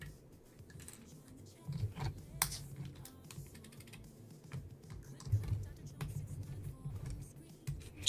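Fingers type steadily on a computer keyboard fitted with O-rings under its keycaps, producing a soft, irregular patter of muted key clicks with a few sharper taps and a low background hum.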